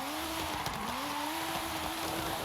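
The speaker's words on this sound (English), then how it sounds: "The car is light and the wheels are spinning" A light 1958 Austin Healey Sprite drifts in a racing game, its wheels spinning with a steady engine drone and a thin squealing tone that wavers slightly. The sound is brief and fairly quiet.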